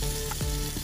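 Spiced masala chicken sizzles on a barbecue grill over open fire, a steady close frying hiss with no one talking.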